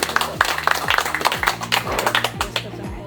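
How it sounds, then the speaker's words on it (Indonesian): Dense crowd clapping fills a volunteer rally supporting a Bali gubernatorial candidate pair, a steady burst of applause lasting a few seconds, with a faint tonal hum or music underneath and no speech. "Ya, boleh tepuk tangan."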